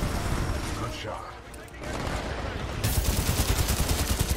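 Dense gunfire rattles in the shooter game Titanfall 2, with a burst early on and a loud, rapid automatic stream in the final stretch over the game's ambient noise.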